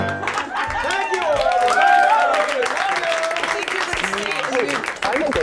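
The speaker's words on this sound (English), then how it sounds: "Can we have a massive round of applause" A crowd at a Disney masterclass with composer Alan Menken breaks into loud, sustained applause, cheers and whoops rising over clapping, with voices calling out across the room.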